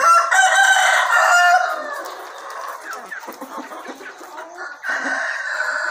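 Free-range village chickens, breeding hens and roosters over five months old, crow and cluck on a farm; a loud rooster crow opens, followed by scattered clucking and a second burst of crowing.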